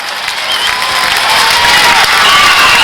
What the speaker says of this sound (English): Stomping the metal bleachers, trying to make some noise